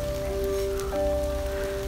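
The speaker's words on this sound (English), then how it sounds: "Just sheltering from the rain" Steady rain falls on the Bibbulmun Track in Western Australia while hikers shelter from it on their first day out, a continuous close hiss of drops on surfaces with a few faint tonal hums underneath.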